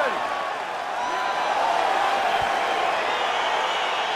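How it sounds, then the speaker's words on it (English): A crowd cheering at a fight in the EA Sports UFC 4 video game, a broad, steady roar of arena noise with faint whoops throughout, fairly loud, with speech mixed in. "crowd getting excited as this fight gets underway"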